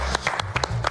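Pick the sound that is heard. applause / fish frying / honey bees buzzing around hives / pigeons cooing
applause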